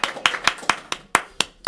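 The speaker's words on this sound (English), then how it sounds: "Give yourselves a round of applause." Eight sharp, separate claps ring out near and fairly evenly spaced, a small audience clapping in rhythm at a Christmas show.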